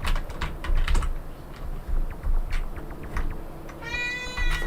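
A cat gives a short meow near the end, over steady close computer keyboard typing and clicking.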